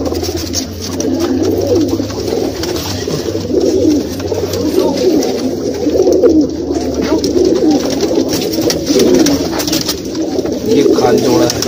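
Steady low cooing of native domestic pigeons throughout, a continuous murmuring chorus from several birds close by at a pigeon market in Old Delhi, with background chatter underneath.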